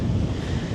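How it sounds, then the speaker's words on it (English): Brisk wind on Rottnest Island buffets the microphone in a continuous low rumbling rush, loud and close, with no talking. "that wind is brisk"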